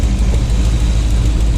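An LS-swapped car engine with new plug wires, headers and an exhaust leak idles steadily up close, a low rumbling drone with a faint irregular tick, running continuously without revving.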